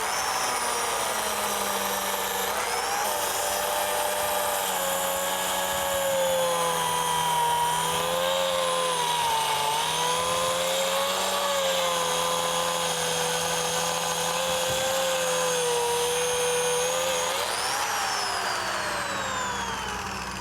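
An old DeWalt plunge blade tool bites into the workpiece and cuts a groove, a loud continuous high whine that sags and recovers in pitch as it glides through the cut, heard without talk.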